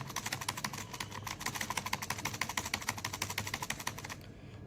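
Quick, steady typing rattles on a computer keyboard close up, a run of crisp, evenly spaced key clicks that stops abruptly near the end, followed by quiet.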